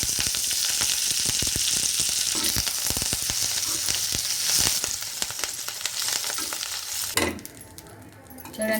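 Curry leaves crackle and sizzle in hot oil, a busy, popping fry with frequent sharp spits and stirring scrapes, easing somewhat and dropping off sharply near the end.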